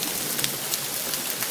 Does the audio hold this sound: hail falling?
yes